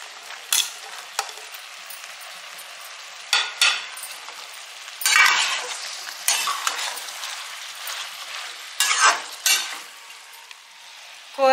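Beans being stirred and fried in a pan with mango pieces for a double beans curry, scraping and sizzling in irregular bursts, close and moderately loud, with no talking.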